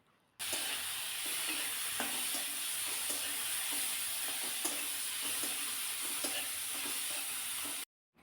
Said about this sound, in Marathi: टोमॅटो सुद्धा चांगलं परतून घेतलेलं आहे